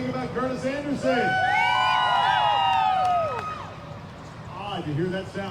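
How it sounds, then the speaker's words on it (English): A crowd at the Carlisle Ford Nationals car show cheers during an exhaust contest, with loud whoops and rising shouts that swell together. The cheering then fades, and brief voices and more shouts follow near the end. "the crowd applause will determine the final 3"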